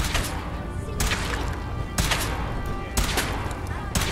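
Gunshots from a weapon being test-fired in the Fallout 4 video game, four sharp loud blasts about once a second in a steady rhythm over a dense background of game sound.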